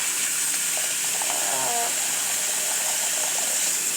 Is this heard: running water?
yes